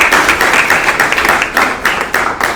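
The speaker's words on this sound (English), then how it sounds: "Let's give him a round of applause." Dense applause from a crowd, steady broadband clapping with a few sharper claps standing out, loud and close throughout.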